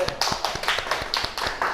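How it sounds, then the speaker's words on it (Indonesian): Several students clapping their hands together in a classroom in a quick, fairly even rhythm, close and lively. "tepuk tangan buat kelompok 1"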